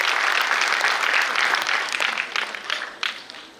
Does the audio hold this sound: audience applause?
yes